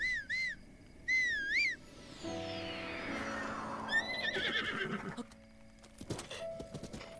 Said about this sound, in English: I'm going to be calling my horse right now